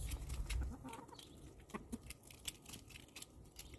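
Chickens, including a rooster, cluck softly amid scratchy pecking and patter as they eat eggshells, with a louder low thump early on; no one speaks.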